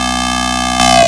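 Melodic dubstep lead synth built in Serum, clean with EQ, a sustained bright harmonic tone holding steady, then swelling slightly louder near the end, alone without speech.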